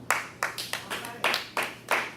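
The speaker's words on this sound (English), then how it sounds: "Let's clap him up." Audience members at a youth huddle clap to welcome an arriving speaker, about seven sharp, evenly spaced claps in a quick rhythm, fairly close and moderately loud.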